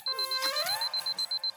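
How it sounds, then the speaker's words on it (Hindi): An alarm clock rings with a steady pulsing beep, around ten short bursts in quick succession, loud and close, with a rising whistle-like tone sliding underneath near the start; no one speaks over it. "अरे अलार्म बंद कर"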